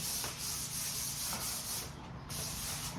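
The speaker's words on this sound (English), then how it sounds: "that is my sanding" Close, steady back-and-forth rubbing of sandpaper lightly scuffing the satin paint on a red door, a continuous rasping hiss with rhythmic strokes and a short lull near the middle.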